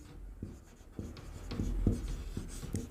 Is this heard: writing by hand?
yes